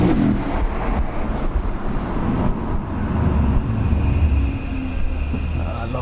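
Lexus RC F engine accelerating hard and shifting rapidly up toward 8th gear, a loud, steady broadband roar with low rumbling and road noise, heard from inside the moving car at Motorexpo London in Canary Wharf.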